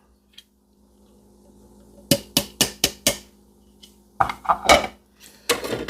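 A knife chops through a big chunk of cooked corned beef on a cutting board, a quick run of five sharp knocks followed by a few more scattered cuts.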